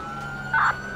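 A police car siren in the GTA 5 video game gives a steady electronic wail with a brief louder tone burst midway, clear and close with no talk.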